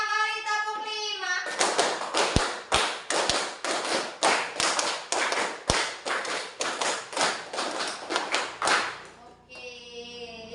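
A classroom of children claps in sharp, evenly counted bursts, a long run of loud unison claps, with a voice counting before and after.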